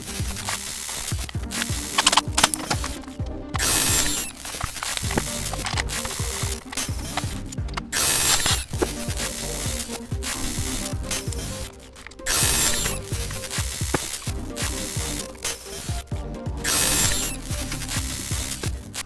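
Airsoft gun being taken apart down to its gearbox, with repeated ratcheting and clicking of tools and parts in a steady, busy rhythm close by, with no talking.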